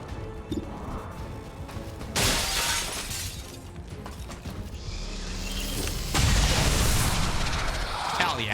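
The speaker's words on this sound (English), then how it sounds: "fire the pistol" Pistol shots fired in a video game, a few sharp cracks and bursts rising over a steady background of game noise, with loud impacts around the middle and near the end.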